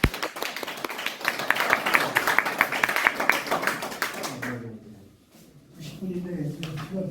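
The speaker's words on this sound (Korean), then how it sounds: "우리 크게 박수를 한번 보시죠" Audience applause for a lecturer at a seniors' lecture event in a hall, dense clapping for about four seconds that fades out, followed by speech.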